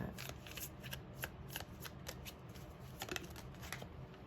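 A deck of tarot cards being shuffled, a close, continuous run of crisp riffling flicks with a quick regular rhythm, heard alone without speech.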